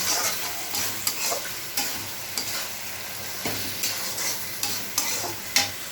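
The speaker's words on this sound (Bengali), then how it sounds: "ধনে জিরে দিয়ে এটাকে ভালো করে নেড়ে চেড়ে মশলাটাকে কষিয়ে" A spice masala with coriander and cumin sizzling in a pan for a Bengali-style chicken dish, with a spoon scraping and stirring in repeated strokes over a steady frying hiss.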